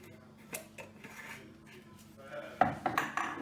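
Salt is mixed into flour in a bowl with a utensil, giving soft, irregular scraping and clinking, with a few sharper knocks near the end, quiet and close.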